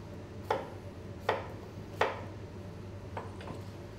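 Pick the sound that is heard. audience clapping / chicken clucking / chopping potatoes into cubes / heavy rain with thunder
chopping potatoes into cubes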